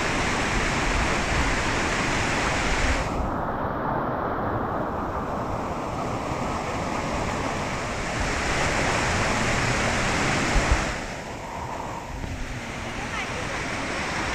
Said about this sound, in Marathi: कधी कधी या आपला जो झरा आहे त्या झऱ्याला बऱ्यापैकी चांगला फ्लो असतो